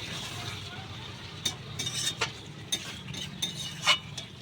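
Fried prawns being stirred with yogurt in a pan: faint scraping and light clinks of a utensil against the pan over a soft sizzle, in a few irregular strokes.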